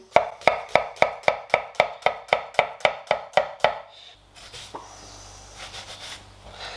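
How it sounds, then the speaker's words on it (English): A knife chops an onion finely on a board for tomato soup, about fourteen quick, evenly spaced, close thuds, then quiet handling noises. "So I'm just going to chop my onion."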